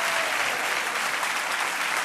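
A church congregation applauds steadily and loudly, a dense, even wash of many hands clapping without pause and with no voices rising above it.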